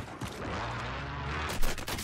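Gunfire in the video game Warzone (Season 4) comes as a dense, continuous rattle of rapid shots, with a louder burst of shots near the end.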